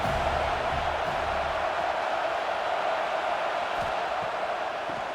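Steady, dense stadium crowd roar at Alabama's home field during a third down in a college football video game, a continuous wash of noise with no distinct breaks, fairly loud throughout.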